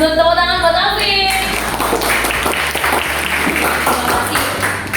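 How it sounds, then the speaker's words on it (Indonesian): A classroom of students applauding their classmate Alvin, dense clapping that starts over a brief voice and continues steadily and fairly loud to the end. "Tepuk tangan buat Alvin."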